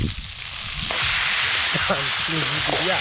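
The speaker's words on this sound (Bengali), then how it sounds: "মুরগির ঠ্যাংগুলো আমি এখন দিয়ে দেবো কড়াইতে" Chicken legs sizzle loudly in a wok at an outdoor picnic cookout, a steady broadband frying hiss that swells after the first second, with people talking over it.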